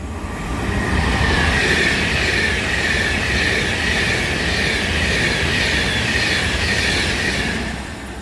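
London Northwestern Railway passenger train departing a station on the West Coast Main Line, a loud, steady roar of wheels and rail noise with a high metallic hiss, close and sustained with no talking.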